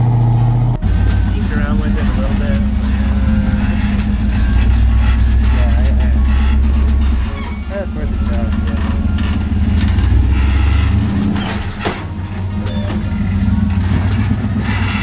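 An off-road rock crawler buggy's engine revs loudly and steadily as it climbs over a rock ledge, with metallic clanks and scrapes from the drivetrain, close and dominant throughout.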